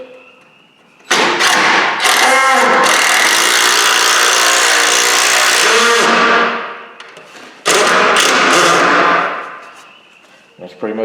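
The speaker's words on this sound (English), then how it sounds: "we're using Tapcons, and we're putting some pretty long screws in to help hold it" A power driver sinks long Tapcon screws to anchor a garage workbench, two loud sustained whirring runs of several seconds each, separated by a brief pause and close to the microphone.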